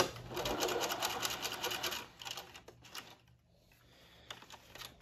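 A sewing machine stitches an elastic waistband with a rapid, steady mechanical rattle, runs for about two seconds, then continues in shorter, quieter bursts with brief pauses between them.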